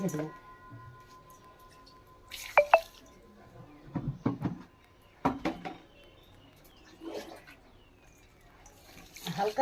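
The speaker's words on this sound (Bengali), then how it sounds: "এটাকে আমি ভালো করে ধুয়ে নেব গোবিন্দভোগ চাল" Gobindobhog rice is washed in a bowl of water, with intermittent sloshing, swishing and dripping in short bursts between quiet gaps, along with a voice talking.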